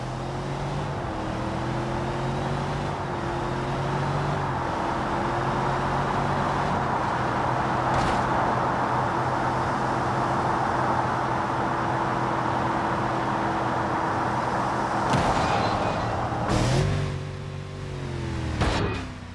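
An Infiniti QX80 SUV driving in the BeamNG game during a range test, with a continuous loud engine drone that shifts pitch several times as it runs steadily, alone without talk.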